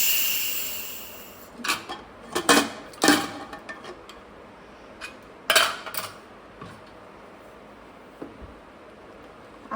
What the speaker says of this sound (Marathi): 1 शिट्टी झाल्यानंतर कुकर थंड झालेले आहे, आपण ओपन करून घेऊया